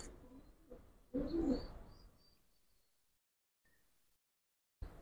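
A Giribaz pigeon in a loft gives a short burst of low cooing up close, then the space falls almost silent apart from a faint later flutter and a small knock at the end.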